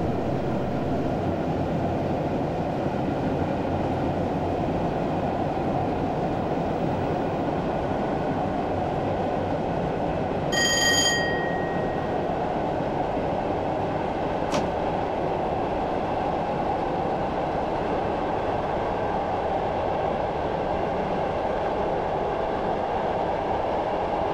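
A train in Train Simulator 2015 on the Sittingbourne to Sheerness line runs under steady power, a continuous loud rolling rumble throughout with a short tonal whine partway through and a faint click later.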